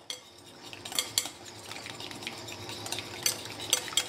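Vanilla ice cream mixture is stirred in a bowl, faint clinks and scrapes of a utensil repeating irregularly against a quiet background.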